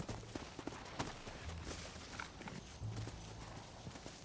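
Horse hooves clip-clopping at a walk in the Red Dead video game, a faint, steady rhythm of soft thuds under a low ambient bed.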